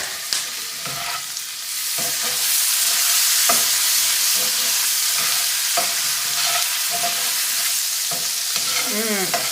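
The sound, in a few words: garlic sizzling in a pan while being stirred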